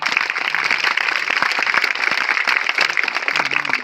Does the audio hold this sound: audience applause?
yes